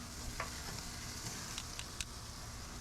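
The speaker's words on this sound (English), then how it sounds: "I'm just trying to get a nice little sear on the outside on some of these." Direct-heat chicken searing on a gas grill makes a faint, steady sizzle, with a few light clicks and scrapes from tongs, and no talking.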